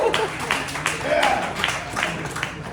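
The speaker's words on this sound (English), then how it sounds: "I appreciate the clapping" A comedy-club audience claps in a steady, moderately loud patter of hands that continues throughout, with some crowd murmur mixed in.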